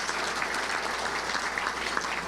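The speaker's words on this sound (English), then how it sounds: "So let's give a round of applause to all of our great sponsors." A banquet audience applauds sponsors at a Little Rock Touchdown Club luncheon, with dense, steady clapping filling the room throughout at close range.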